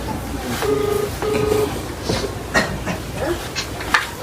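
A telephone is dialed at close range, with several steady beeping keypad tones in a row followed by clicks and faint background noise.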